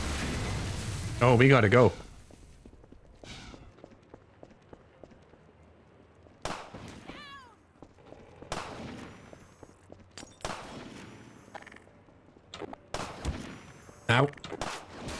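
Sniper rifle shots in Half-Life 2: several sharp, loud cracks at irregular intervals, mixed with other game noises and a person talking over the action.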